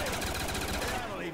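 Rotating 360-degree turret in a Call of Duty Zombies Kino map fires a continuous rapid stream of gunfire, steady and loud, with game noise and voices mixed underneath.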